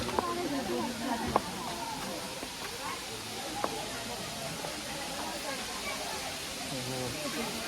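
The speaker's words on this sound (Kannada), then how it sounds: "ನೀರ್ ಸೌಂಡ್ ಮಾತ್ರ ಚೆನ್ನಾಗಿ ಕೇಳಿಸ್ತಿದೆ" A constant rushing wash of flowing water at a temple in Tirupati fills the background while people talk intermittently over it, with a few faint clicks.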